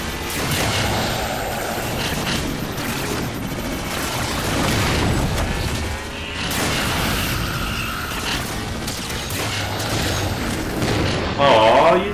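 Turret gunfire in Halo 4 during a multiplayer match, a dense run of booming, rapid shots and explosions that keeps up for the whole stretch, with a player's voice talking over it.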